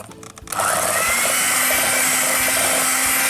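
Electric hand mixer beating a biscuit batter for sesame biscuits, starting after a brief quiet moment and then running as a steady, loud whir with no one talking.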